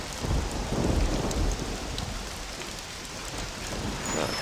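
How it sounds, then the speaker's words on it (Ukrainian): Steady rain falls in the video game Mafia: The City of Lost Heaven, an even hiss of drops pattering on surfaces with a faint low rumble of thunder, heard alone. "А тут дивишся, наче краплі всюди крапають."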